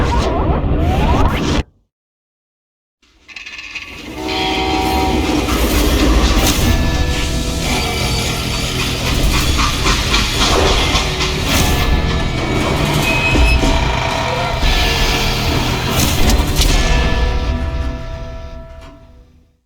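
Freight train in the video game Call of Juarez: Gunslinger, a loud rumbling and clattering run with metallic squeals and rhythmic clacks, broken by an abrupt silence of about a second before the roar resumes and continues steadily.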